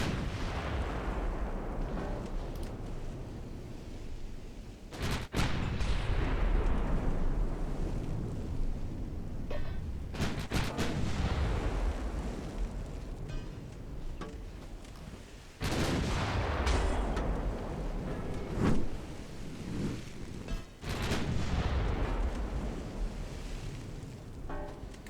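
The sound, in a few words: warship guns firing in video game Ultimate Admiral Dreadnoughts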